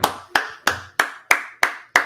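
Seven sharp hand claps ring out close and loud at a slow, even pace, each one crisp with a short fading tail, and no voices.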